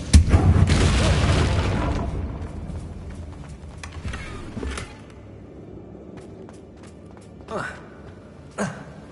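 A Confringo spell blasts a damaged bridge in Hogwarts Legacy, opening with a loud, rumbling explosion that fades over about two seconds, followed later by a few sharp, whooshing spell impacts.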